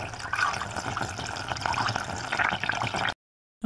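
Coolant poured into the cooling system of a Subaru 2.5L engine, a close steady liquid gurgle and trickle for about three seconds before stopping abruptly.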